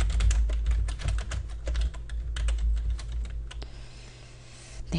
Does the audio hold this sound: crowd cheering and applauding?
no